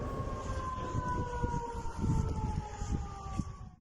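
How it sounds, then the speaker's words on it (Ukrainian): A distant air raid siren in Belgorod wails in a steady, drawn-out tone over a low background rumble. "сирена ракетної безпеки втретє за день звучала у Білгороді"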